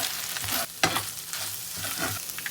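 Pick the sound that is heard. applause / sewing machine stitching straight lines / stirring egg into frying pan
stirring egg into frying pan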